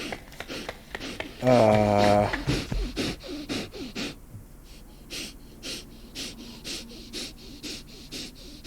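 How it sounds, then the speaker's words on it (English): Gasping, wheezing breaths from a game character in The Last Door Season 2, a strained voiced gasp rising early, then ragged breathing continuing over scratchy game ambience. "Heavy breathing?"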